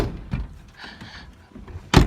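Ford Ranger farm truck door with misadjusted strikers slamming shut: a couple of soft thumps and faint rattles, then one loud, sharp close bang at the end.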